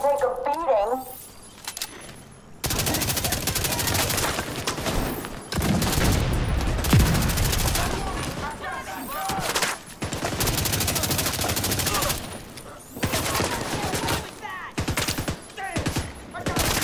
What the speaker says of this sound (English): Oh, you have to shoot the weak points.